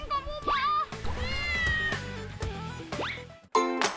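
A cat meows several times up close, its rising and falling cries overlapping with talk, with a sharp final yowl near the end.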